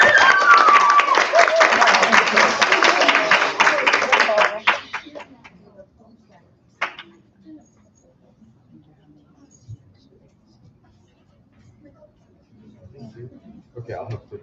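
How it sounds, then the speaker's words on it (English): An audience at a symposium claps for student presenters, a dense burst of applause that fades out after a few seconds, followed by quiet room noise with light shuffling. "Let's give a quick round of applause for Savai, Shaylin, and Kailani."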